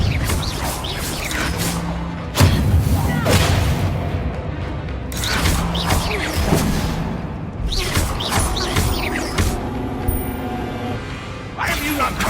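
Confringo fire-blast spell explosions from Hogwarts Legacy, heard as several heavy booming impacts spread through a busy stretch of game combat, with voices and other effects mixed in.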